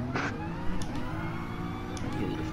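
A game car in Gran Turismo drag racing strains in the wrong gear, its engine holding a steady low drone with harmonic bands throughout, broken by a few brief higher bursts, loud and continuous.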